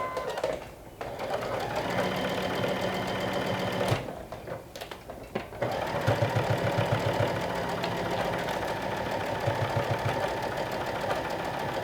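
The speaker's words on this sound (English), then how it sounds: "Make sure that you sew through all the layers." Sewing machine stitching through several fabric layers, a steady close motor whir with rapid needle thumping, pausing briefly twice before running on.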